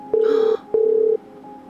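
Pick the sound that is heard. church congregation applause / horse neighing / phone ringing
phone ringing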